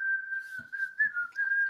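A person whistles a steady, wavering tune close to the microphone, one continuous line of pitch with slight bends and a few soft breathy noises underneath.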